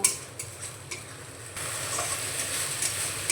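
Spice masala for a chickpea and pea curry sizzles and fries in a pan. A spoon stirs it with occasional scrapes, and the frying grows steadier and louder partway through. Close and fairly quiet.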